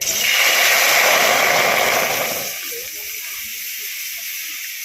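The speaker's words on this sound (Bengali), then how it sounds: "এবার কড়াইতে জল দিয়ে দেবো" Water poured into a hot wok of dry red chillies and whole cumin frying in oil sets off a loud, broad hiss of steam that roars for about two seconds, then drops to a quieter simmering fizz.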